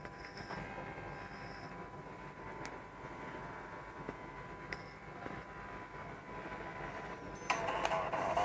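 An Arkray PU-4010 urine analyzer prints out test results, a faint mechanical whir and rattle rising briefly at the very end after a long stretch of quiet machine hum and scattered clicks.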